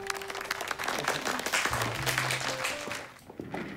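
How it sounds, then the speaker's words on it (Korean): An office audience applauds a newly introduced baseball team general manager, a steady moderate clatter of clapping that fades toward the end. "박수."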